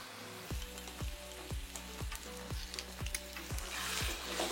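Minced meat fries with yogurt and tomato in a pan, a loud sizzle under a regular rhythm of spoon strokes scraping through the mixture about every half second, the hiss swelling toward the end.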